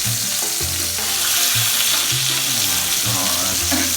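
Salmon fillets sizzling skin side up in hot oil, a loud continuous frying hiss with crackling spatter, overlaid by a low tonal hum that rises and falls throughout.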